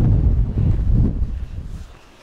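Strong wind buffets the microphone on a beach at Katsiveli, Crimea, a loud low roaring rumble in gusts that gradually eases toward the end.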